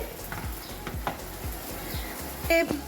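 Fish frying in a pan for a fish curry, with a faint sizzle under repeated rhythmic scraping or stirring strokes and a brief louder clatter near the end.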